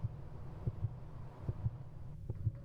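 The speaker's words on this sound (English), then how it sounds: "The fact that I can hear my heartbeat is like not my favorite." A soft, steady thumping heartbeat effect in the video game Suck for Love, low and muffled with paired beats repeating at an even pace over a faint hum, no speech.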